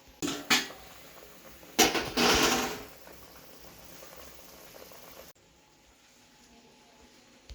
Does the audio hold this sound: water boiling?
yes